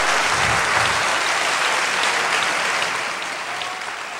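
Church congregation applauding together during a Portuguese-language worship service, a loud, dense wash of clapping that holds steady for about three seconds before easing off slightly at the end.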